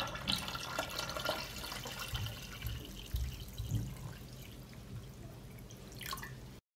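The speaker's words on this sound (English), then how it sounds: "I pour cold water up to the height of the pot cover" Cold water pours into a cooking pot holding jars on a cloth, a gentle trickling and dripping that stays fairly faint and steady, with a few louder splashes.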